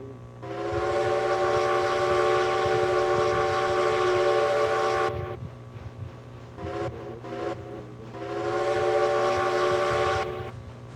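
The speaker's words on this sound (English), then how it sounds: "Now this is the part where we need to build up speed. There we go. Full regulator on both locomotives." Two steam locomotives, one a Heisler, working at full regulator in the Railroads Online game, sounding long steady whistle blasts with a brief broken pause between them over a low rumbling chuff, no talk.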